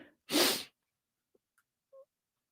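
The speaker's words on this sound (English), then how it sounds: "I gotta sneeze." A single sharp sneeze bursts out close by, followed by near silence with a couple of faint small noises.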